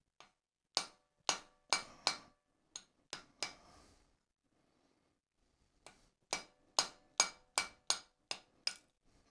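Sharp ringing hammer blows on hot iron over an anvil while forging an 18th-century ratchet trammel hook, struck in quick rhythmic bursts of several strikes, a short pause, then another steady run of blows; close and loud.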